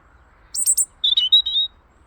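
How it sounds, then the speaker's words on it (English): A small bird gives a quick series of bright, high chirps in two short bursts, close and clear against near silence. "Such a sweet bird."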